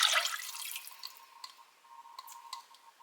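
Chicken broth poured from a cup into a cooking pot already holding broth and water, giving a brief splashy pour at the start followed by light, scattered dripping and trickling close by, with no talking.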